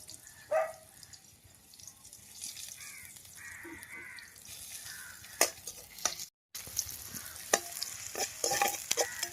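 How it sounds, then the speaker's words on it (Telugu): Faint, steady sizzle of onions frying in oil with occasional stirring scrapes and clinks, a crow cawing now and then in the background. "ఉల్లిపాయలు కొంచెం ఫ్రై అయిన దాకా అయితే ఉంచుకున్నాము"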